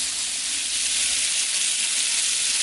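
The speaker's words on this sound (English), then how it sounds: "I'm going to turn them down to a light simmer" A pot of frijoles charro beans bubbles on the stove, giving a steady, even hiss and sizzle that stays constant throughout with no voices.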